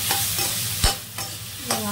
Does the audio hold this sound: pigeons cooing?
no